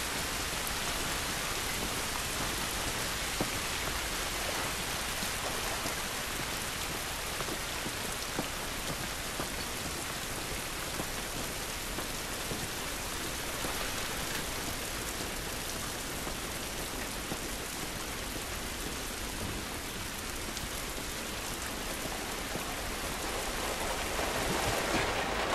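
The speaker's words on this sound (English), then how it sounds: "This rain ain't gonna do us any good." Steady rain pours down throughout in The Last of Us video game, a dense, even hiss of drops on surfaces that holds at one level from start to finish, with no voices over it.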